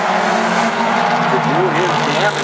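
Mini stock race cars roaring around South Sound Speedway at an A-Main race, loud continuous engine drone with a rising, wavering pitch under commentary.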